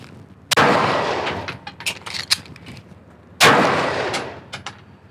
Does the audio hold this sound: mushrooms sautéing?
no